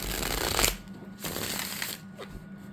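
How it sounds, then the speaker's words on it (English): Glossy tarot cards are riffled and shuffled up close in two bursts of crisp, papery flutter, with a brief soft pause and a faint tap between them. "I do like the way that they shuffle."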